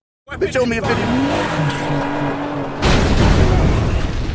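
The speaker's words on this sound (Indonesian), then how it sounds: "membuat mobil yang ditumpangi mengalami kecelakaan dan terjun ke danau" A car in a film scene skids with a drawn-out tire squeal over a roaring engine, then a loud, broad crash of impact as it goes off the road toward a lake.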